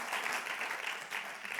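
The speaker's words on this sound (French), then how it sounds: "Est-ce qu'on peut applaudir le Seigneur Jésus ce matin?" A church congregation at a Sunday celebration claps together in a steady, even wash of applause, moderately distant and fairly soft throughout.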